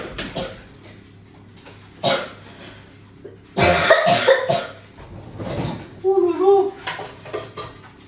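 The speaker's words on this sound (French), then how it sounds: "Je tousse toujours." A woman in a kitchen coughs a few times in short bursts, mixed with clattering dishes and cutlery being cleared, close by.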